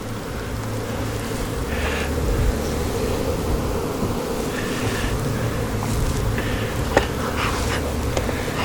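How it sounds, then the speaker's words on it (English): Honey bees drone in an open queenless hive box, a dense, steady close-up buzz lasting throughout, with light wind noise and no talking. "There's a box of bees. Now this is queenless. This is a queenless hive."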